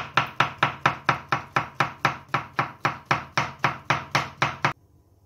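A knife cuts through chanterelle mushrooms on a board in a fast, even run of about eighteen crisp close taps, then stops abruptly.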